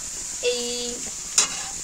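Soft sizzling of chowmein ingredients frying in a pan with a brief metallic clink of stirring, steady and close, no voices.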